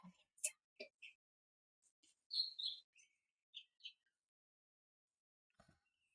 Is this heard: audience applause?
no